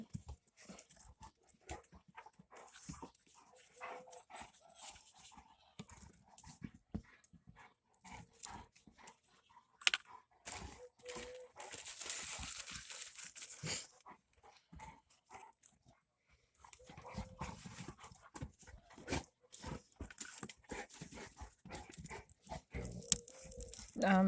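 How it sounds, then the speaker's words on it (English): Dogs scuffle and play-fight nearby, with panting, soft whimpers and growly snorts, plus scattered thumps and occasional rustling. "My dogs are wrestling."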